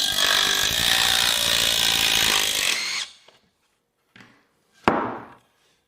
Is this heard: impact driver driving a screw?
yes